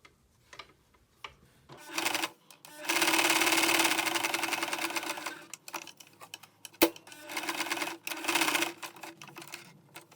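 A sewing machine stitches the seam of a cloth face mask with elastic, running in several bursts of steady rapid whirring, with short pauses and small clicks between runs, close and clear with no talking.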